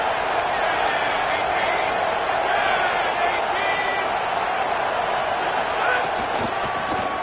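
A college football stadium crowd roars steadily on a third down, a dense, loud wall of cheering that holds level throughout while a commentator talks over it.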